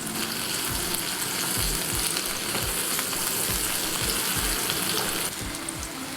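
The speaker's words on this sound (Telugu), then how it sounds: "స్టవ్ సిమ్లో పెట్టుకొని వేయించుకోవాలి. మధ్య మధ్యలో కలుపుకుంటూ వేయించుకోవాలి." Eggplant pieces fry in a pan on a low flame, sizzling steadily and loudly, with periodic soft scraping thumps as they are stirred.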